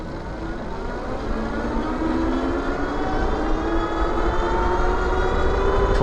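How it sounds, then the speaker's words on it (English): An Aniioki A8 Pro Max e-bike on throttle only, making a top speed run: a steady electric motor whine climbs gradually in pitch over a background of rushing wind noise, with no voices. "Okay, time for a top speed run. I've got the bike set up in pedal assist 5. I'm gonna go throttle only."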